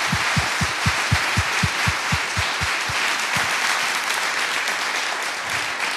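Sustained applause from the audience at a church debate event, dense steady clapping filling the room for the full stretch with a few louder individual claps near the front early on.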